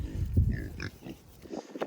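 Pigs kept in the woods give several close, low grunts and snorts in quick, uneven bursts.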